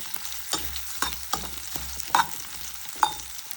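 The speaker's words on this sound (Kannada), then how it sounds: "ಸ್ವಲ್ಪ ಲೈಟಾಗಿ ಫ್ರೈ ಆದಮೇಲೆ ಒಣಗಿದ ಮೆಣಸಿನ್ಕಾಯಿ ಹಾಕ್ಕೊಳ್ಳೋಣ." Dried red chilies fry in a pan for ridge gourd chutney. The sizzle is light and continuous, broken by several sharp stirring scrapes, and nobody talks.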